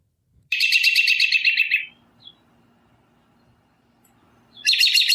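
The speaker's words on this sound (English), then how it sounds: "we are way off on the bird sounds today" Bright, rapid bird chirps come in a loud trilling burst, pause into near silence, then start again at the end, close and clear.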